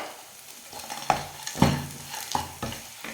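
A spoon stirs bread sweet mixed with roasted cashew nuts in a pan, making several distinct scraping strokes at an uneven rhythm over a gentle sizzle, close by with no talking.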